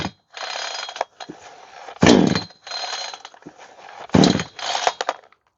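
The starter cord of a Chester Garden petrol chainsaw is yanked repeatedly at close range, each pull a sharp rasping whirr, with scraping and clicking between pulls and no engine catching.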